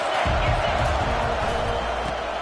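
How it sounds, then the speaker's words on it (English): Stadium crowd at a college football game between Wisconsin and Penn State roars in a dense, steady wash of noise, with a commentator's voice faintly beneath it. "This crowd trying to make life miserable for this offense."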